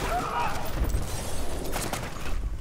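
Rapid gunfire bursts from the Call of Duty video game run continuously at moderate loudness, mixed with dense in-game battle noise and a voice talking over it.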